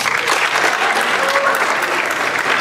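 Audience applause for a scholarship recipient at a high school academic awards assembly, a dense, loud burst of crowd clapping throughout.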